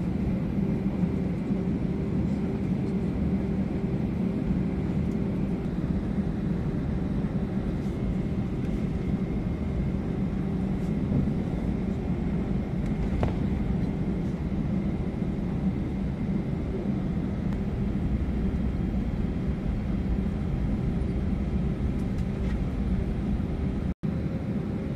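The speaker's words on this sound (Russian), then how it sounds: "Сейчас там один самолет взлетает, и потом наша очередь." An airplane takes off from a runway at Frankfurt am Main airport, heard from inside a waiting aircraft as a steady low engine rumble and drone that stays constant.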